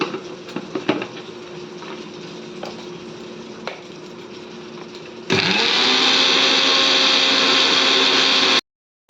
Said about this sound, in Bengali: দাঁড়াও পোস্তটা পিষে নিই